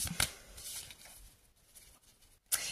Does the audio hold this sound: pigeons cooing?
no